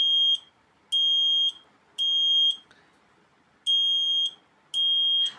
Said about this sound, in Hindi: जैसे ही हमारा डार्क होगा तो हमारा बज़र बजने लगेगा